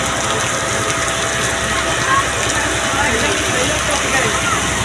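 Heavy rain falls as a steady, dense hiss that fills the whole scene, loud and close, with a constant broadband wash and no clear gaps.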